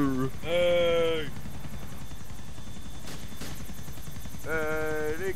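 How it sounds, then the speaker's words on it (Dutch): A steady helicopter rotor and engine drone in GTA IV multiplayer, holding constant throughout while several players shout loudly over it. "Zitten we dan met z'n allen in de helikopter?"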